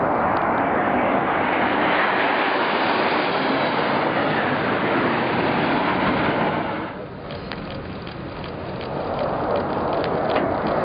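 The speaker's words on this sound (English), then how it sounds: "We have two Russian SU-24s currently conducting multiple passes at CPAs of 75 feet" Two Russian Su-24 attack jets make low, close passes over a Navy ship, a loud continuous roar of jet engines that fills the whole clip, dipping briefly midway before swelling again.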